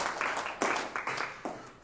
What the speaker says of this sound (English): Give him a round of applause for participating.